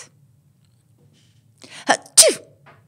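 A single loud, close human sneeze: a short sharp intake followed by an explosive burst, in an otherwise quiet room.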